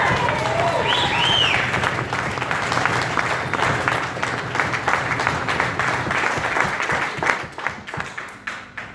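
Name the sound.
applause for the bridesmaids at a wedding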